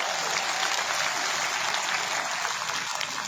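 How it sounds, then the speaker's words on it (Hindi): Loud, sustained applause from a crowd at a political rally, a dense continuous clapping that fills the space for a few seconds. "जोरदार ताली के साथ"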